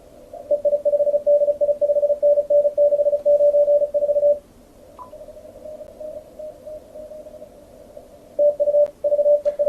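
A steady, pure CW radio tone beeps in a continuous stream, then a second zero-beat tone at the same frequency carries on more softly before the first returns.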